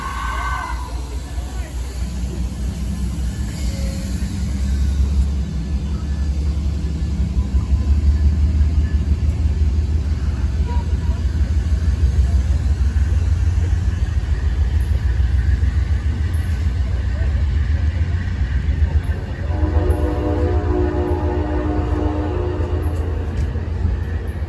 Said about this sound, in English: we are now departing Oxnard Station